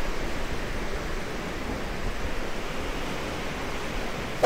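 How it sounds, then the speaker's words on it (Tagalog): Strong ocean waves wash steadily onto a beach in Boracay, a continuous broadband roar of surf with no clear breaks, close and fairly loud. "Lakas ng alon."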